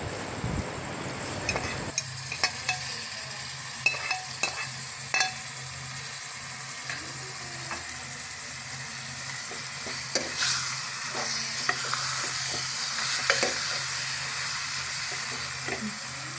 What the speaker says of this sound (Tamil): இப்போ கனவா மீனை அதில் ஆட் பண்ணுறோம்